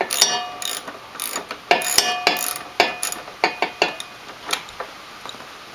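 A ratchet wrench works a bolt loose on a Honda Shadow motorcycle, giving a dozen or so sharp, close metallic clicking bursts in an uneven rhythm with short pauses, no talking.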